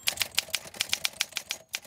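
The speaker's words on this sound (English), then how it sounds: "I like typing letters on real typewriters" Keys strike quickly on a manual typewriter, a close run of about a dozen sharp, evenly spaced clacks with one short pause near the end.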